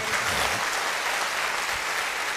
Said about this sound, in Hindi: एक बार जबरदस्त तालियां मेरी मां के लिए मार दीजिए